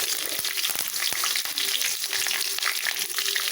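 Curry leaves fry in hot oil for a parotta dish, giving a steady, close crackling sizzle that runs the whole time with no one talking.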